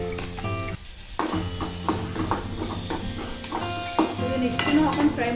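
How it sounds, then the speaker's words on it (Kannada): Capsicum, onion and garlic fry in a pan with a steady sizzle, broken up by repeated scraping and clinking as a spoon stirs against the metal. A short quieter gap comes early on, and the crackle then picks up again at close range. "ಇದನ್ನಿಷ್ಟನ್ನು ಹಾಕೊಂಡು ಫ್ರೈ ಮಾಡ್ಕೊಳತ್ತೆ ನಾನು"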